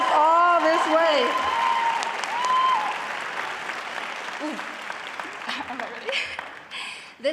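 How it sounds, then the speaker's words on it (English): Sustained audience applause at a university social welfare commencement ceremony, a dense wash of clapping that stays loud throughout and slowly eases, with voices calling out and talk layered over it. "Let's give a round of applause to the families here who have supported us all this way."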